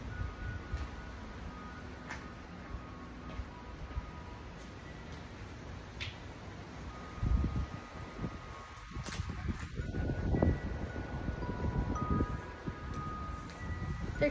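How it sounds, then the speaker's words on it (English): Gusty wind rumbles against the microphone in low bursts that grow stronger partway through, with faint ringing wind chimes in the background. "It's so windy today."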